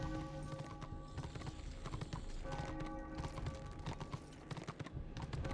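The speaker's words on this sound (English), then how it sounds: "When I mount my horse," Horse hoofbeats in the video game Warhammer: Return of Reckoning, a steady, fast clip-clop rhythm of a mounted gallop running throughout, with a faint neigh and a constant background of game ambience.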